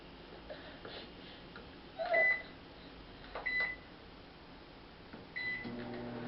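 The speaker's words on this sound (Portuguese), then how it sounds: "Então liga o micro-ondas." A microwave oven hums steadily and quietly, with a few short electronic beeps over it.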